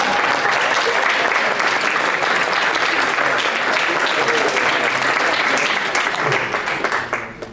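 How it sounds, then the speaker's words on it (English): Sustained, dense applause from an audience at a county commissioners' court meeting honoring a high school band, loud and even throughout before tapering off at the end. "ladies and gentlemen, we can clap."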